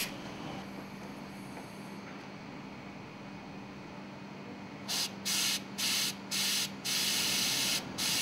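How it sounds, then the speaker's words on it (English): Compressed air blows in short bursts through a cleaned air cylinder from a MAN B&W MC marine engine exhaust valve during overhaul, about six sharp hissing blasts after a quiet hum. "Clean the air cylinder with compressed air."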